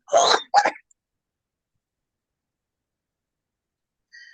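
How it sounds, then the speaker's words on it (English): A single sharp sneeze burst, close and fairly loud, followed by a brief second gasp-like blast, then near silence. "That was a sneeze."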